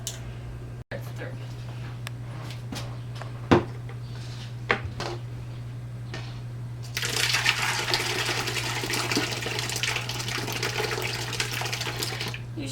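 Cheese curds and whey being poured into butter muslin start as a sudden watery splash and continuous pouring rush in the second half. Before that come a few clinks and knocks over a steady low hum.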